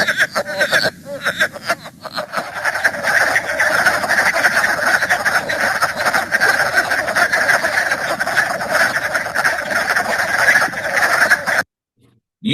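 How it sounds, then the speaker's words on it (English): A chorus of wood frogs calls together, dense overlapping clucking croaks forming a loud continuous mass, cutting off abruptly near the end. "Usually when I think of wood frogs, I think of that full chorus"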